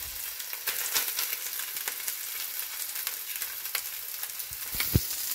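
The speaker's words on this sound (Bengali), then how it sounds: "চিংড়ি মাছটা দিয়ে দেবো। আর দেবো এই বাটা" Shrimp paste and ground spice paste frying in a pan, with a steady crackling sizzle and occasional stirring scrapes, close and continuous with no talk.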